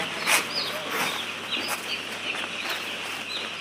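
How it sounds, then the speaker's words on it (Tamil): Chickens clucking and squawking amid a busy, noisy farmyard background, with a sharp call standing out early on. "நாங்கள் எல்லாம் கோழி இறக்கிட்டு இருக்கோம்."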